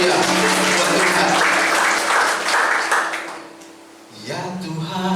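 A church congregation at a GBI Sunday service applauds for God, a broad, steady wash of clapping over sustained music and voices that dips briefly, then swells again toward the end.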